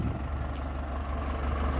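A Ford 6640 tractor with an air-conditioned cab and a grader blade hitched behind runs steadily, its low diesel rumble close and constant without pauses or talk.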